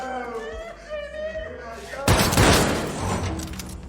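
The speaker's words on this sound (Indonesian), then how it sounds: "Suara tembakan itu akhirnya terdengar sampai luar" A sniper's gunshot in a film scene bursts out loud and sharp after a tense moment with a voice speaking, then its echo fades into a ringing tail.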